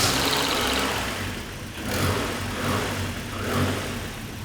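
A cheap turbocharged JDM car engine idles close by, a low uneven rumble that swells and dips slightly over a few seconds, with no one speaking.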